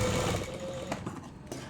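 A sewing machine stitches folded fabric for a neckline, whirring briefly at moderate volume before slowing and stopping, followed by faint handling noises.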